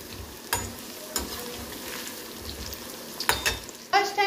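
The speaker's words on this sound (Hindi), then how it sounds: "देखिए यहाँ हमने कॉर्नफ्लोर में लगा करके रखा और इसे हाफ फ्राई कर रहे हैं पहले हम।" Baby corn coated in cornflour half-fries in hot oil, giving a continuous close sizzle with a few short clatters from stirring and a bubbling burst near the end, with no talking.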